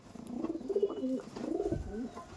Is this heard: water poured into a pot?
no